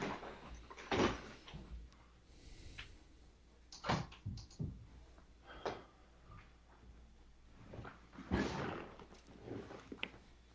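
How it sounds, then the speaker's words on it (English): An office door is opened indoors, with a few quiet thumps, a latch click and some soft knocks and shuffles spread over several seconds. "let me try opening the door to the office"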